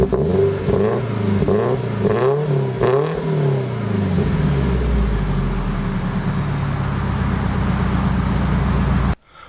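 A modified, supercharged 2017 Toyota 86 fitted with a Borla exhaust fires up and revs several times, the loud exhaust note climbing and falling in sharp sweeps before settling into a steady rumbling idle, then cutting off abruptly.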